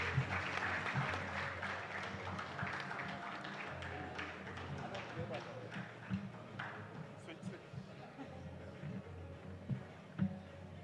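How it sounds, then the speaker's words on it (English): Audience applause at a summit, a broad steady wash of clapping from a crowd lasting throughout, with some voices mixed underneath. "Big round of applause."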